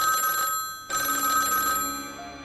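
A telephone rings with two electronic bursts of ringing, a short one then a longer one after a brief gap, clear and alone without talk.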